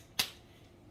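A can is cracked open in a kitchen while making roasted red pepper hummus, giving one sharp, close pop in an otherwise quiet moment.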